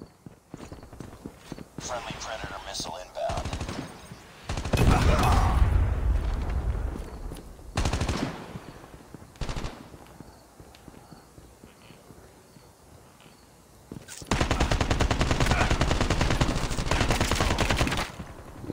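Bursts of gunfire in Call of Duty: Mobile free-for-all play, loud clusters of shots with pauses between, the last stretch a long sustained volley, a voice talking in between.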